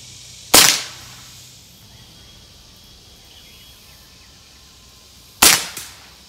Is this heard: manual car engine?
no